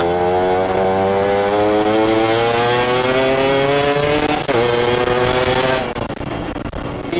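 Yamaha F1Z-R two-stroke motorcycle with racing gear ratios and porting, its exhaust revving loudly and climbing in pitch through quick gear changes, then a sharp shift and rougher crackle near the end, close and alone.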